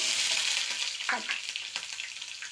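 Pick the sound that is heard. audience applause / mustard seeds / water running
mustard seeds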